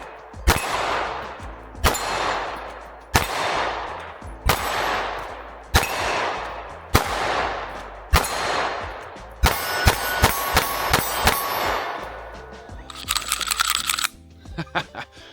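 A Canik MC9 Prime pistol fires at steel targets, with sharp, loud shots spaced a second or more apart, each followed by a decaying echo, then a quicker string of shots with faint metallic pings near the end.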